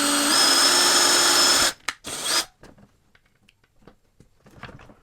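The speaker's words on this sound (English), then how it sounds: "I'll drill a hole, test it, and see if that will go through." A power drill whines loudly at high speed, then stops abruptly, followed by a short burst and quiet clicks and handling noises.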